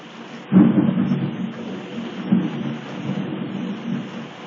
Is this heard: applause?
no